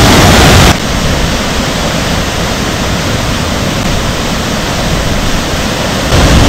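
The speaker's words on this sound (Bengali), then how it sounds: "প্রায় 30 ফুট উপর থেকে পড়ছে এই সানা ঘাগড়া ওয়াটারফল।" The Sana Ghagra waterfall in Keonjhar, swollen by monsoon rain, drops about 30 feet with a loud, steady, broadband roar of rushing water that fills the whole scene without a break.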